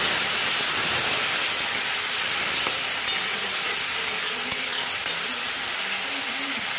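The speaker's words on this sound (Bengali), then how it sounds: "এর মধ্যেই আমি দিয়ে দিচ্ছি জিরের গুঁড়ো, ধনের গুঁড়ো আর শুকনো লঙ্কার গুঁড়ো। সামান্য একটু জল দিয়ে দিচ্ছি।" Ground cumin, coriander and dried chilli powder sizzle loudly in a hot pan as a splash of water goes in for a rohu fish head curry, a steady, dense frying hiss with small pops and no talking.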